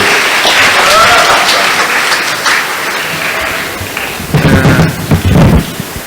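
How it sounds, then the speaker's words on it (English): Audience applause at a monthly community centre meeting, loud and continuous across the room, swelling with heavier bursts of clapping and possible cheering toward the end. "let's give him a welcome of applause"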